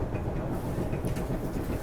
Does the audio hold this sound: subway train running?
yes